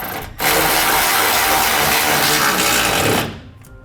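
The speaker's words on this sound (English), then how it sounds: "I'm going to be using a 13mm socket to tighten this bolt up" Ratcheting socket wrench with a 13mm socket tightening a bolt during an air helper spring install on a 2016 Ford F-150, a steady close rapid clicking run lasting about three seconds, then stopping.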